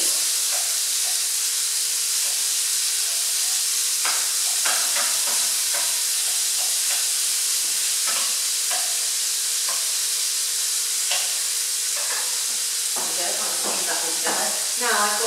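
Sausages and bacon browning in a frying pan for a casserole, with a steady close sizzle and hiss broken by stirring clatter, growing busier and crackling toward the end.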